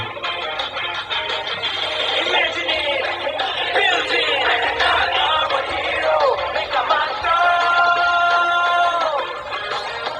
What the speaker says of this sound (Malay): siap ada lagu Mechamato lagi mechanizer ni